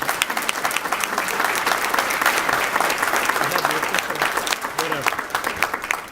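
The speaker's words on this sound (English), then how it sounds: "Give them another round of applause." An inauguration audience applauds a family, with loud, sustained clapping and a voice speaking over parts of it.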